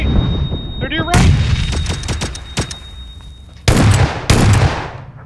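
A flashbang grenade goes off in PUBG amid a firefight, with sharp loud blasts and repeated gunshots cracking through the clip, two heavy bursts near the end, and a brief shouted voice early on.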